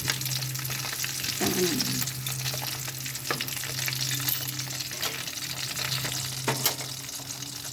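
Fresh danggit fish sizzles and crackles in hot oil in a pan, a steady close frying hiss with occasional pops and stirring clinks throughout, while a voice speaks briefly.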